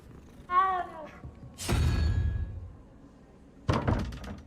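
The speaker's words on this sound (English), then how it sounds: "Oh, it's a cat." A cat in Hogwarts Legacy gives a short meow, followed by heavy thumping, slamming noises; the purr itself is faint under them.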